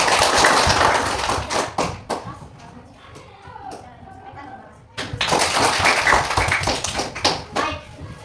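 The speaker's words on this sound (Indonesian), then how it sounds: "Kita berikan tepuk tangan sekali lagi." A group applauding at a school teachers' coaching session: two bursts of clapping at the start and end, with a quieter stretch between where voices and light taps come through.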